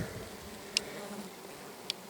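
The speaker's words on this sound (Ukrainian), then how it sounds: "А так працюють бджоли" Honeybees hum softly and continuously around a heavy honey-filled hive frame in a forest apiary, a faint low drone with two brief sharp clicks.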